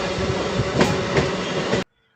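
A MEMU express train on the Bangalore to Tumkur line rumbles loudly and close at a station, with broad steady rolling noise and a few louder clanks before it cuts off abruptly.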